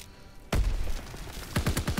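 In Call of Duty WW2 multiplayer, a thrown grenade detonates with a sudden sharp boom, its rumble trailing off before a rapid string of gunshots cracks in the distance.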